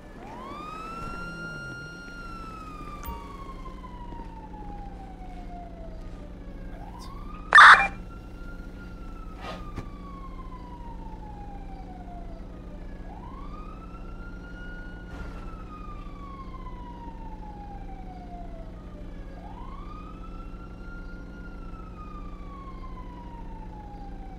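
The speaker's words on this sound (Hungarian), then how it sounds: "Valahol nagyon szirénáznak." Police sirens in GTA V wail in repeated rising-and-falling sweeps over a steady engine-like drone, with a sharp brief burst near the middle; no one talks.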